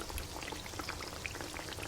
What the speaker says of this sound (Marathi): एक एक करून सर्व समोसे आपण तेलामध्ये टाकून घेऊ